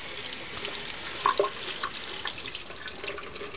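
Sprouts being rinsed under running tap water over a drainage tray, a steady close splashing hiss with a brief louder splash partway through.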